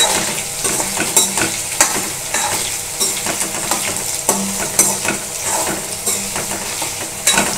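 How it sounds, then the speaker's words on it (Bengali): Potatoes fry in a pan for Bengali aloo posto, a constant sizzle punctuated by repeated scraping clinks of a spatula stirring against the metal, close and loud, with no voices. "আলুগুলো দিয়ে ভাজবো"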